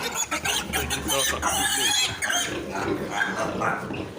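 Eight-day-old piglets squeal and grunt busily in a dense, continuous high-pitched chorus, close and loud, with a person's voice occasionally mixed in.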